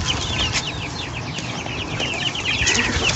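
A hen clucks steadily among her chicks while they feed, close and continuous, with busy chirping layered over the low clucks and no talk.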